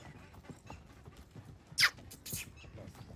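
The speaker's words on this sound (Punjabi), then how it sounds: "ਤਾਂ ਘੋੜੀ ਮਾਸ਼ਾਅੱਲਾ ਬਹੁਤ ਸੋਹਣੀ ਆ ਤੁਰਦੀ ਵੀ ਸੋਹਣਾ ਵਾ" A mare walks on a farm, her hooves giving soft, sparse clip-clops with one sharper knock, faint against a low outdoor background.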